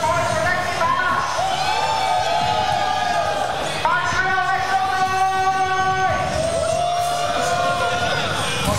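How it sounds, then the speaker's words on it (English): A crowd cheers and yells continuously at a Super Smash Bros. Ultimate grand finals while an amplified, distorted megaphone voice blares over the noise, with people talking throughout. "Very hard to concentrate with this loud megaphone going."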